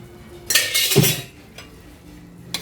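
Fried tofu stirred into sautéed palabok sauce in a pan, a few clinking scrapes of a utensil against the metal over roughly a second, then quieter scattered taps.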